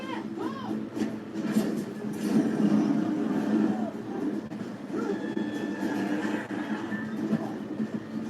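Subway-style train in an animated superhero episode, a steady rumbling rail car with rolling wheels and faint squeals, loud and continuous throughout.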